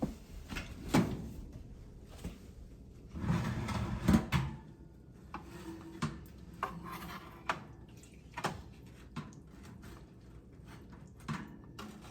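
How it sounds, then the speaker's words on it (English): A brown sugar ham being basted in the kitchen: scattered clinks and clatters of a spoon and pan, several louder knocks spaced out over a quiet background, with no talking. "I'm gonna baste it again."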